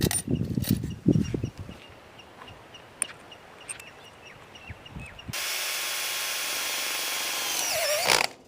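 Power drill driving screws with washers to fix a net pulled tight onto a frame, a steady loud whirring run that holds for about three seconds, following a few short clicks and knocks.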